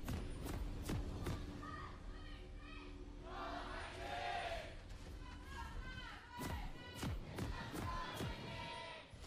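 SANDBOX Gaming fans cheering at a League of Legends LCK esports match against SKT, a broad arena crowd roar that swells and recedes under a caster's talk, punctuated by sharp thumps.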